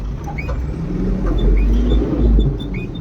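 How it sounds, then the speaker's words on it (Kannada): A goods-carrying vehicle's engine idles and runs just after starting, a steady low rumble close by with faint higher tones and no one talking. "ಗಾಡಿ ಸ್ಟಾರ್ಟ್ ಮಾಡಿದೆ"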